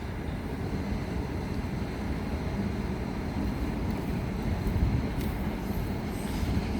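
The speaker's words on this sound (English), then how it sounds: "approaching now is the 1630 Southeastern service from Ramsgate to London Charing Cross" A Southeastern passenger train from Ramsgate to London Charing Cross, unit 375910, approaches Ashford International station with a steady, close rumble of wheels and motors and faint high squeals near the end.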